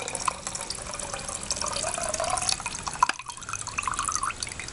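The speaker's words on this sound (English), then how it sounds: "I'm just going to strain the water." Water poured off cooked chicken in a camp cook set, a steady soft splashing and trickling stream running throughout at moderate level, with a brief dip partway through.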